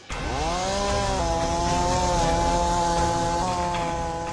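A chainsaw cuts wood during cleanup after an ice storm in Canada, its engine rising quickly to a loud, sustained high whine that wavers slightly as it bites through the wood, close and continuous with no talk.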